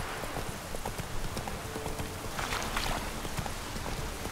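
Steady clip-clop of horse hooves at a walking pace in The Witcher 3 video game, close and continuous, with a dense rhythmic patter throughout and no talking.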